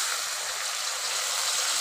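Water poured into a pan of frying garlic and tuna fish curry gives a brief, steady hissing rush that stays even from start to finish.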